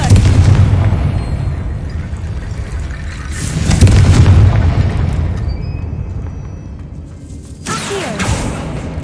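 Fiery spell explosions in Hogwarts Legacy: a loud booming blast at the start, a second rumbling burst around the middle, and a sharp third burst near the end, over a steady low game rumble.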